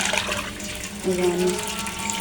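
Water is poured into rice for matar pulao in a home kitchen, a steady splashing pour that rises in the middle of the clip, with faint voices in the background.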